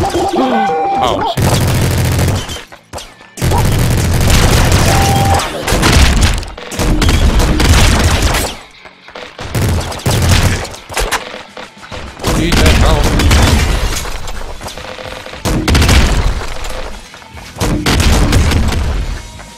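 A minigun firing in the video game Nuclear Throne: loud, sustained bursts of rapid gunfire with booming impacts, repeated in several long volleys separated by brief gaps.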